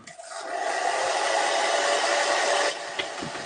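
Hair dryer blowing on white paint on a drawing, a loud steady whooshing roar for a few seconds before it switches down to a lower setting.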